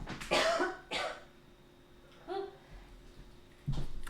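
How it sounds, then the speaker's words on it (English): Several harsh coughs come in bursts, a pair close together, then another after a pause and a final one, close and fairly quiet. "I'm gonna cough."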